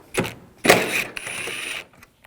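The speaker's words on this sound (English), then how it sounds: "We're going to take this bolt on each side out, use a T30 socket." A hand ratchet fitted with a T30 socket loosens bolts on a 2006-2009 Audi S4 4.2L V8, giving a few short, close bursts of rapid clicking separated by brief pauses.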